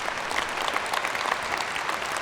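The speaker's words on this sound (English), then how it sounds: "Can we please have one more round of applause for all of the sponsors?" A keynote audience at the AWS Public Sector Summit gives a round of applause for the sponsors, a dense, continuous wash of clapping from a large crowd.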